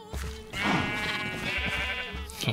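Sheep bleating in Minecraft: a drawn-out, wavering bleat sounds up close, with soft game background noises and thumps around it.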